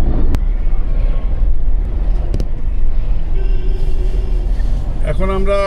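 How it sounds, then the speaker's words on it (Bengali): Car cruising on a highway between Kolkata and Siliguri past Beldanga, a steady broadband road rumble throughout with a brief horn-like tone near the end. "চলুন ড্রাইভ কন্টিনিউ করি"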